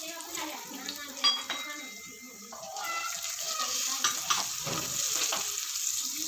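Turmeric and spices get stirred in a pan, a spoon scraping and clinking against metal over a steady sizzle, with occasional louder knocks.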